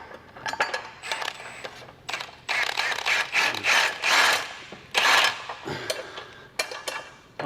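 A ratchet tightens a bolt while a 4.5-inch HRG Offroad BEAST lift is fitted to a 2019-2025 Honda Passport: close, loud bursts of rapid metallic clicking, stopping and starting in short runs.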